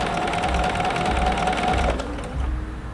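A sewing machine stitches piping onto a fabric fold, its steady motor hum and rapid needle rhythm running continuously and close, then slowing and easing off briefly near the end.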